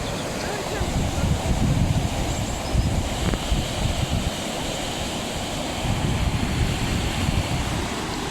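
High waves crash and surge along the Irish coast, a loud continuous rushing roar mixed with wind buffeting, building in two broad swells, with a voice speaking faintly beneath.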